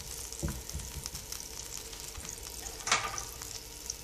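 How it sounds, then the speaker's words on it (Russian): Butter melting in a frying pan gives a steady, quiet sizzle with a few soft clicks of a utensil against the pan and one brief louder scrape near the end, with no voices. "Кладем на сковородку сливочное масло, грамм 30-50."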